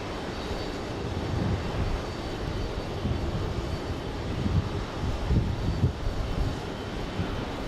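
An Aer Lingus airliner arriving from Dublin at JFK gives off a steady, moderately distant engine rumble, low and even with slight fluctuations throughout.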